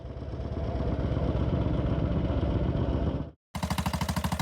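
An AJS Red Hunter, a classic British heavyweight trials motorcycle, runs its single-cylinder engine with a loud, close, steady thumping beat that cuts out briefly and then resumes with a pulsing idle.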